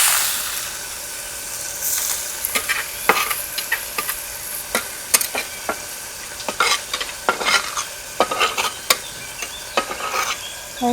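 Chopped shallots tossed into hot tempering oil with mustard seeds, curry leaves and chilies for a Kerala village-style chicken curry, sizzling loudly with repeated scraping stirs and sharp crackles spaced through the stretch, no one talking.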